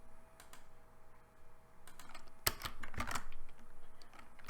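Computer keys pressed during Unity editor work, a few sparse soft clicks early and then a quick, louder cluster of taps near the end, close and dry with no talking.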